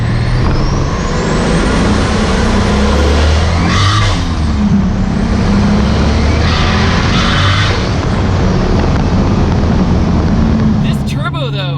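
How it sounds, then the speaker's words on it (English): A turbocharged Nissan 240SX with a JZ engine accelerates hard, its loud, continuous engine and wind roar filling the cabin with rising whooshes as it pulls; a voice speaks over the noise. "This turbo, though, almost acts like a supercharger."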